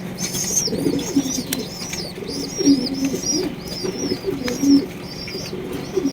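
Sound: pigeons cooing

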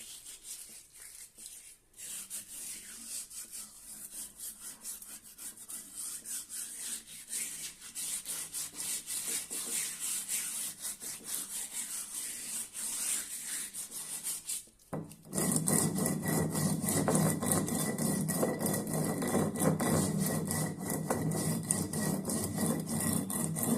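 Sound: stone rubbed on new grinding stone (pata-varvanta) to season it

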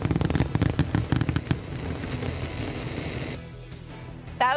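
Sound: fireworks show over the Detroit River

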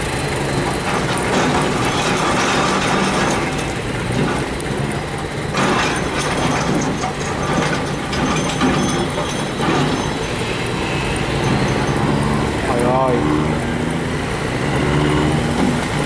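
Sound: engine running loudly

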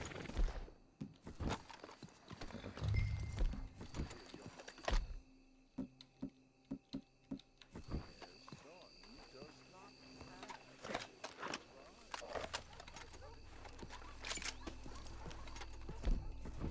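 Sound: horse hooves clip-clop in video game Red Dead Redemption

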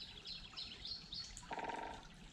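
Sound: unidentified bird calling by a stream

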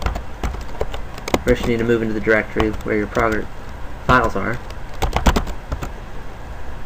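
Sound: typing on a computer keyboard at the command prompt

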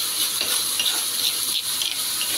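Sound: green chilies frying in used cooking oil

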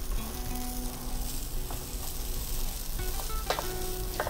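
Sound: rice with curry leaf powder sizzling as it is stirred in the pan

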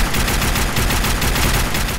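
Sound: modded gun firing in video game Fallout 4

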